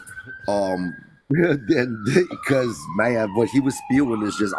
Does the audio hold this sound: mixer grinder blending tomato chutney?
no